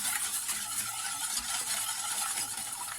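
A steady, continuous scraping and swishing comes from cake batter with cornstarch and egg yolks being mixed in a bowl. It is close and fairly loud, with no voices over it.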